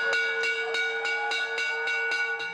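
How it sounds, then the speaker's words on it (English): Bells ring out to open the Boxing Day sales at a Sydney store, a steady series of bright, regular clangs about every third of a second, loud and close with ringing overtones and no talking. "bells sounded the start of the Boxing Day sales"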